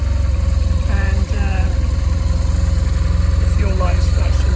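A BMW HP2 Megamoto motorcycle's twin-cylinder engine idles close by in a loud, even, rapid throb, with someone talking faintly over it.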